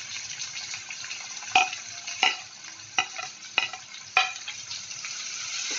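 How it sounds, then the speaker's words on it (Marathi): Chopped onion in hot oil sizzles steadily while a spoon scrapes and stirs the pan in five or six distinct strokes, close up and with no voices. "हा, मी आता कांदा टाकते."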